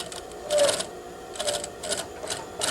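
Sewing machine stitching basted tape while joining a skirt waist, running in a few short bursts of rapid mechanical chatter separated by brief pauses, close and moderately loud.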